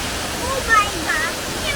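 A steady, broad rushing roar of a waterfall about 7 metres high in Bali, constant and fairly loud throughout.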